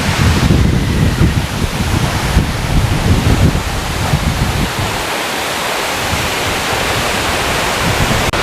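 Agaya Gangai waterfall in the Kolli Hills roars loudly and steadily close by, its spray and falling water forming a dense, unbroken rushing wash with gusty wind buffeting throughout.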